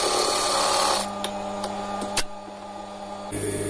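A sewing machine runs through a shirt seam in a brief steady whir, then stops with a few small clicks before starting again.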